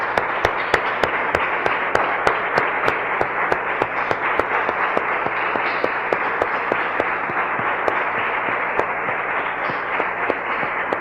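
Congregation applauding in a church service: a steady wash of crowd applause with sharp, regularly spaced claps cutting through, sustained and loud for the whole stretch.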